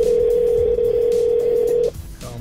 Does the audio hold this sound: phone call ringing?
yes